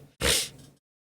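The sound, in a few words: sneeze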